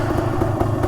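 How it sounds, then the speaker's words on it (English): A 400cc two-stroke motorcycle engine idles close by with a rough, uneven putter and light mechanical clatter, a brief continuous run with no talking. "Trying to get it to idle."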